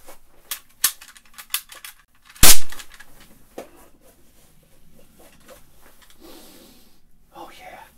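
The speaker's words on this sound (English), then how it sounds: "Shot a cap gun for Delaware." A cap gun fires one sharp, loud crack near the middle, preceded by a few small clicks and followed by quieter handling noise and voices.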